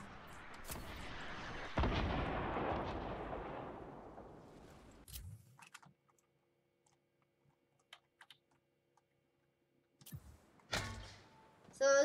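Grenade launcher rounds bursting in a Fortnite Battle Royale fight, one long loud rumbling blast that fades slowly, then sparse faint clicks and a few short sharp bangs near the end.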